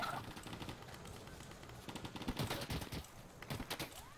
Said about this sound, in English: Whoa, hey, hey, friendly fire, Stim